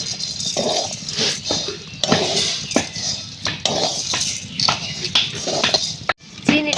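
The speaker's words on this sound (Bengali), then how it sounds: "এবারে চিনি দেবো" Sugar going into semolina halwa in a cooking pan, with scattered metallic clinks and scrapes of a spoon against the pan over a steady background hiss.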